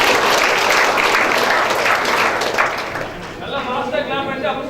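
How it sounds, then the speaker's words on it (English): An audience at a college event applauds in a dense, steady burst that tapers off after a few seconds, after which voices carry on over the fading room noise. "Not endless clap. Regular routine applause."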